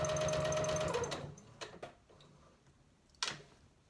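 A sewing machine runs in a quick whirring burst while stitching a pincushion, then its balance wheel is turned by hand, giving a few soft separate clicks and thumps, with a sharper tick near the end.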